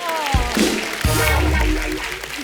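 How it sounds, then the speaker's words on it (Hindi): A crowd breaks into loud, sustained clapping that fills the room, steady and dense throughout, with a few voices mixed in. "जोरदार ताली हो जाए"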